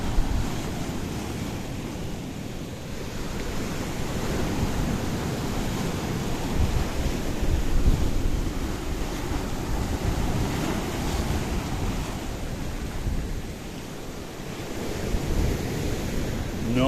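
Choppy Mediterranean Sea waves wash against a rocky coast at Kissonerga, Paphos, as a constant, loud roar of surf with wind buffeting the microphone, surging and easing over the whole stretch.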